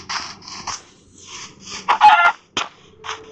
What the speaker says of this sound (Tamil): நான் கோழி அடிச்சுக்கிறேன்.